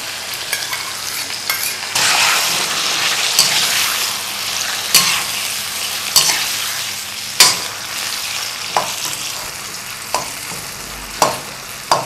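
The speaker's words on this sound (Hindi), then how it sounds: "इनको उस वक्त तक भूनें जब तक टमाटर जो है ना वो मैश ना कर ले" Tomatoes fry with yogurt, cumin and crushed red chilli in a pan for a Punjabi cauliflower karahi, giving a loud, continuous sizzle. Frequent spoon strokes and scrapes punctuate it at an irregular rhythm, with no talking.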